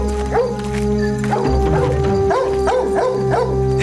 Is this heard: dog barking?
yes